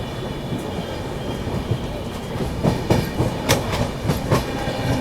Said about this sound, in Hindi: कोसी कलान रेलवे स्टेशन से अपनी ट्रेन निकल गई है।